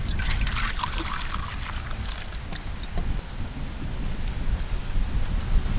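Milk mixed with water is poured into a container, producing a steady, close splashing trickle that runs continuously for about six seconds without any talking.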